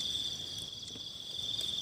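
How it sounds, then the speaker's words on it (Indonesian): Crickets chirp in a continuous, high-pitched drone at moderate level, with steady background chirping and no talk over it. "Kumaha jangkrik? Jangkrik."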